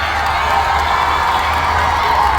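At an outdoor Palestine rally in Boston, a large crowd cheers and claps loudly and continuously, with shouts and whoops blending into a dense, sustained roar.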